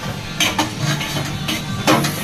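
Dishes, pots and pans being scrubbed and washed by hand in a home kitchen, with repeated clinks and knocks of utensils over a steady wash of running water, close and moderately loud.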